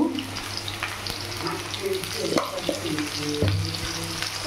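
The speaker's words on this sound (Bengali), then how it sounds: "এখানে আলুটা ভাজা হচ্ছে" Potatoes with turmeric fry in oil with a continuous close sizzle, cut by frequent spatula scrapes and clinks against the pan.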